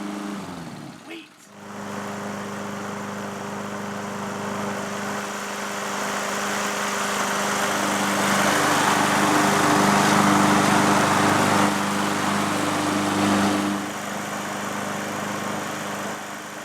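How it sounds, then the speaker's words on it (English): A lawn mower engine runs steadily at close range, a loud droning hum with a brief dip near the start before settling into a continuous, even roar that swells slightly in the middle. "When you're mowing your lawn"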